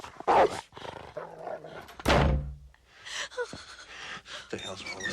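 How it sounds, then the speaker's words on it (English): A dog barking in a horror-comedy film scene, sharp loud barks mixed with gasps, thuds and a slamming door, with voices speaking amid the commotion. "the dog is barking, obviously because of Fool's antics"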